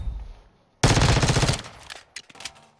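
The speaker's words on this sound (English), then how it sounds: "And then we got the X13 Auto, which is a Glock 18." The X13 Auto, a Glock 18-style fully automatic pistol, firing in Modern Warfare II: one loud rapid burst of about three-quarters of a second, followed by a few quieter clicks and mechanical handling sounds.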